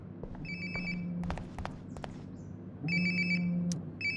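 Mobile phone ringing in the video game Life Is Strange: Before the Storm, two bursts of an electronic ringtone with a low buzzing vibration, separated by a short pause, clear and close alongside a few soft footsteps.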